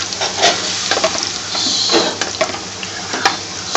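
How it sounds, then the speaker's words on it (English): Potatoes fry and sizzle in a frying pan in an Indian restaurant kitchen while being stirred, with repeated scraping strokes and clinks of the utensil against the pan over a continuous loud hiss, close up. "So stir it nice and gently, stir the frying pan"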